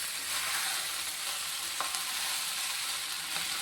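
Lemon rice tossed and stirred in a hot pan on low heat, a steady close sizzle with soft scraping strokes and no talk.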